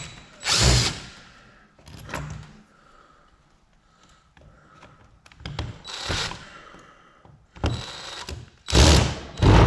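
A power drill removes motor screws in a workshop, whirring in several short bursts with pauses between them and loud close spins at the start and end.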